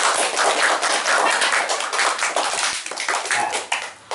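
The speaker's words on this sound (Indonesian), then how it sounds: "Tepuk tangan untuk Anda sekalian" An audience of learners claps hands together during an Arabic grammar lesson taught in Indonesian: a dense, close burst of many overlapping claps that keeps going for about four seconds and thins slightly near the end.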